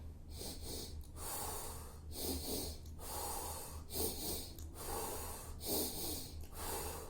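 Slow, deep breaths drawn into the belly and then the chest during a breathwork exercise, each long inhale and exhale audible and close, roughly six cycles in a steady rhythm with no talking.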